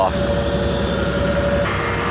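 Backhoe engine revving while laying pipe at a roadside worksite, a steady, loud mechanical drone with a thin whining tone held for most of the moment before the pitch shifts near the end.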